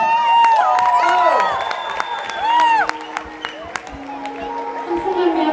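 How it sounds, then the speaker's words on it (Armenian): A concert audience at an Armenian pop show in Tolyatti claps and whoops, with scattered sharp claps and raised voices over a loud, sustained crowd hum. "Խնդրում եմ մի հատ էլ բարձր ծափարեք"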